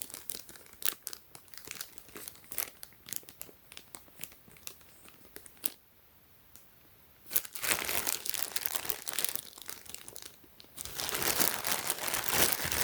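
Close, irregular plastic crinkling and rustling in bursts, pausing briefly before louder, denser crackling resumes.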